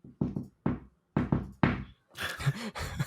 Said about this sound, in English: I'll knock on the glass and see if it summons her.